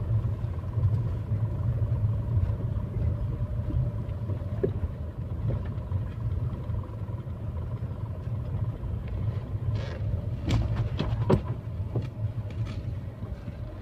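A Tata Tigor car drives along, its steady low engine and road rumble continuous throughout, with a few brief higher clicks and knocks near the end.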